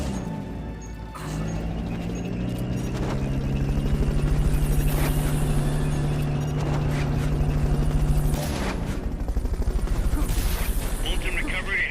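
In the video game Metal Gear Solid Peace Walker, a Fulton recovery helicopter drones loudly and steadily, its rotor chop joined by crashes and rattling bursts of game effects, with voices heard over it at times.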